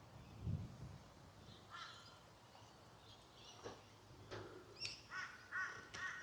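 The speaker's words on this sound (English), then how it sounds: "Crows are always talking away." Several crows caw in scattered calls, some distant and some nearer, over a quiet outdoor background in Gold Coast Botanic Gardens in winter.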